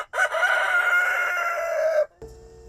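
A rooster crows once in a loud, drawn-out cock-a-doodle-doo lasting about two seconds, followed by a brief quieter tail, in a backyard chicken setting with no talking.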